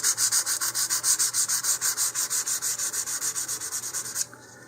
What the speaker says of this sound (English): take some 220 grit sandpaper and use it to first of all take down any edges along that seam.